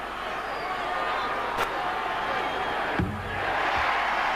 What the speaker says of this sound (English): You can hear the reaction from the crowd as they see the replay up above